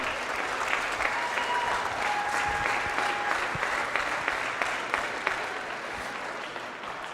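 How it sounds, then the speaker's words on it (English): Gym crowd applauding after a junior varsity basketball championship game, dense sustained clapping at moderate distance that carries steadily throughout with slight fading toward the end. "So give every team a round of applause for that."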